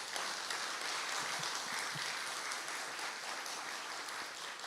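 Church congregation applauding in thanks during a sermon, a steady dense wash of clapping that fills the room at moderate level and holds evenly throughout.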